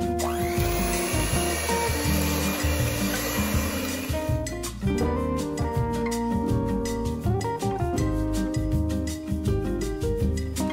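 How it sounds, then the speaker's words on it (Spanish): An electric hand mixer beats softened butter with sugar for pan de muerto cookies. It makes a continuous high whirring whine for several seconds, then the motor note gives way to other tonal sounds, with no talking. "Este paso lo voy a hacer con una batidora"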